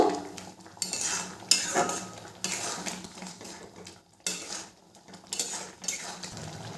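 A spoon scrapes and clinks against a pan while cashews and raisins are stirred into tomato chutney, with several distinct bursts of metallic scraping separated by brief pauses.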